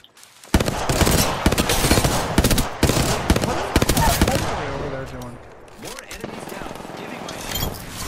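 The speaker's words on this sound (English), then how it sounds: "I am taking fire from you." Rapid automatic gunfire from an Apex Legends firefight, dense bursts of shots cracking loudly for several seconds, then easing into scattered shots and impacts, with a player talking over the action.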